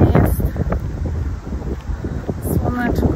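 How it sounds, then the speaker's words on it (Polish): Outdoor wind buffets the microphone on a dry, sunny, cool day in Poznań, a steady roaring rumble that stays loud throughout with no clear talk over it. "Jest wiatr i wiatr jest chłodny"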